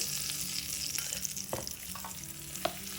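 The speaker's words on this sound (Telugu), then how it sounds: "ఇప్పుడు వేయించుకున్న తాలింపుని పచ్చళ్ళలో వేసి కలుపుకోవాలి" Fried tempering with curry leaves sizzles steadily as it is mixed into mint tomato chutney, a close, continuous crackling hiss with spoon scrapes and stirring knocks.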